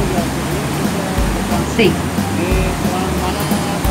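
A waterfall in Munnar, Kerala, heard as a broad, constant roar of rushing water close by, with someone speaking briefly over it.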